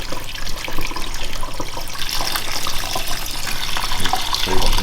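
A household tap that loses flow after a strong first burst runs water steadily and loudly into a sink, a continuous splashing rush throughout.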